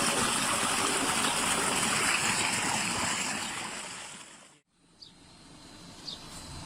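Clean water flowing steadily from a solar-powered tubewell with a 20 HP motor, a loud continuous rushing that fades out partway through, followed by quieter trickling and a couple of faint clicks.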